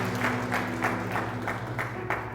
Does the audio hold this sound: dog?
no